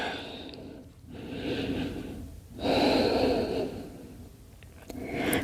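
Slow, deep breaths drawn in and released during a yoga resting pose, each long airy inhale and exhale close and clearly audible, alternating with quieter pauses and no talking.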